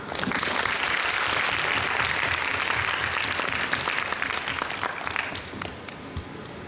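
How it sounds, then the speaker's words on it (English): Sustained audience applause fills the room after a keynote lecture on personal fabrication at a conference, loud and dense at first, then thinning slightly toward the end with a few scattered claps. "another big round of applause to our speaker today"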